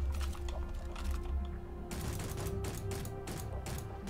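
Rapid pistol fire in the Space Engineers survival game, aimed at attacking spiders, a dense burst of sharp repeated shots over a constant loud background hum, with no speech.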